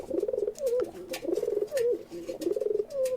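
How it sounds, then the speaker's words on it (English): A dove or pigeon coos in a steady repeated pattern of soft, rolling low calls, about five phrases in quick succession, fairly close and clear with no talking over it. "What is that? A dove or a pigeon?"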